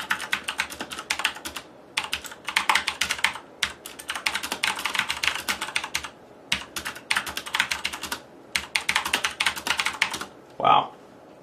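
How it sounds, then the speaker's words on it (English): Corsair Vengeance K70 RGB mechanical gaming keyboard being typed on, near and clattering in fast bursts of keystrokes separated by short pauses, ending with a louder single thump. "see me at the keyboard typing"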